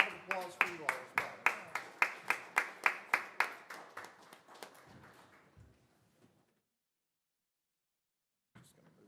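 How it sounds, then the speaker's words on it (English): Applause for officers at a city council meeting, a burst of clapping that starts strong for about four seconds, then thins and fades to silence, with a faint clap near the end. "a big round of applause for you all as well"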